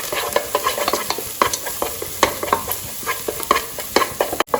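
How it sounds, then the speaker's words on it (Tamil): Two beaten eggs frying and being stirred into golden fried onions in a pan, a steady sizzle broken by repeated close scraping stirs for preparing an idiyappam rice dish, with no voices. "ஆனியன் பொன்னிறமாக சவந்தவுடன் 2 முட்டை உடச்சி வச்சதை ஊற்றுங்க. ஊற்றி நல்லா கிளறணும்."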